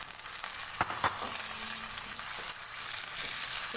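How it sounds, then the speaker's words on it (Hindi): Half a kilo of finely minced beef frying with onions in a pan, a steady broadband sizzle throughout with a few faint scrapes of a spoon. "इसको भी 2 से 3 मिनट प्याज के साथ फ्राई कर लेंगे।"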